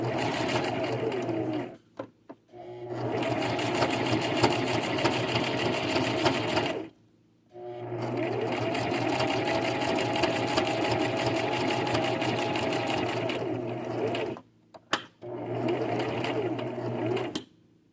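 A sewing machine back stitching, running in loud, steady whirring bursts of several seconds each, separated by short pauses and a few quick stops, close up with no voices.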